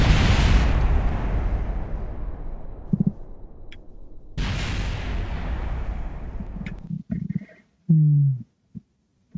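Two big booming explosions in the video game Kerbal Space Program, each followed by a long rumbling decay, with a few sharp pops and a short burst of sound near the end.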